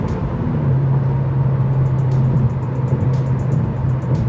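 A 2008 Dodge Caliber SRT-4 pulls hard with a steady loud engine drone, heard from inside with a constant low hum and road rush throughout and no voices.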